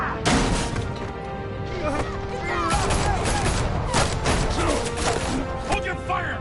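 Gunfire in Batman: The Telltale Series rattles as a dense, continuous barrage of loud bursts and impacts for several seconds. Voices are heard through the shooting.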